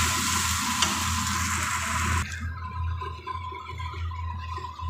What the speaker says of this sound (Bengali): একটু মশলাটা কষাবো।